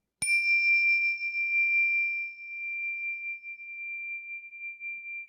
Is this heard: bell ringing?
yes